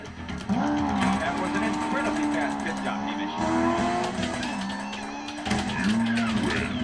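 A Legends Corvette pinball machine plays race car sound effects, a loud sustained engine whine rising and falling in pitch, cutting out briefly and returning, with electronic game noise mixed in.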